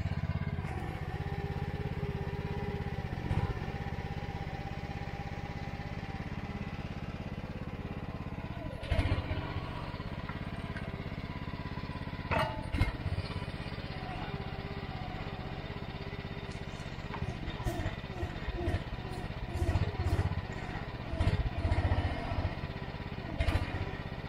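A mini excavator's small engine runs steadily throughout while cutting a sloped path, a low continuous rumble with occasional clanks and rattles, fairly close.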